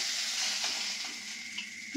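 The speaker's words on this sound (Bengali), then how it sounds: "মাছ তো ভাজা হয়ে গেছে, পেঁয়াজ আর কাঁচামরিচ দিয়ে দেবেন।" Fish fries in a pan at home in the rain, a steady hiss of hot oil with faint bubbling pops and a small clatter at the end, without speech.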